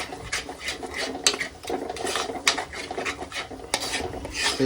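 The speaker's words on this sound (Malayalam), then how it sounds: "നല്ലോണം ഇളക്കി കൊടുക്കുക ആ എണ്ണയ്ക്കകത്ത് ഈ മുളക് പൊടി കിടന്ന് വേവണം" Chili powder stirred through hot oil in a pan with a utensil gives repeated scraping, rasping strokes across the pan's base, close and steady for the whole stretch, with no talking over it.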